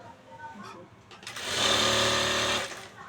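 A sewing machine runs a steady, loud stitching burst for about a second along a blouse border, half an inch in, after a quieter stretch with a voice in the background.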